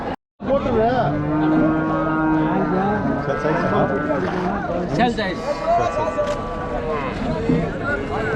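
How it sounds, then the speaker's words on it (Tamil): A native cow moos repeatedly, loud and close, at the busy Vaniyambadi cattle market, with people talking and general crowd bustle all around. "நாட்டு பசுமாடு"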